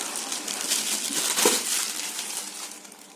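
Crinkly rustling and crunching of thermocol packing as F&D A140X speakers are pulled from their box, soft and close, with one sharper crunch midway.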